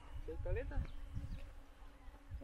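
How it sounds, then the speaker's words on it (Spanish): Low buzzing of bees at a beehive hums through the background, with bits of indistinct Spanish talk over it, fairly close and steady. "escucho un panal de abeja"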